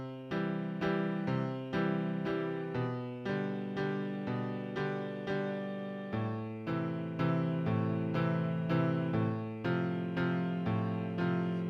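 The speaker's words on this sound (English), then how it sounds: "Or if I did it with good voice leading," Piano chords played with smooth voice leading that keeps common tones, a steady rhythmic left-hand pattern of repeated chord strikes over a bass line, fairly quiet and close, with nobody talking.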